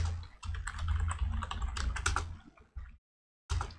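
Rapid typing on a computer keyboard while writing JavaScript code, a close, continuous patter of key clicks that stops briefly near the end, then resumes.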